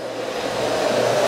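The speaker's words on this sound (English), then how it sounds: "the things about this vacuum you'll love is how quiet it is." A Miele Boost CX1 canister vacuum cleaner runs steadily at close range, a continuous airy whooshing hum with a slight rising tone, with no talking.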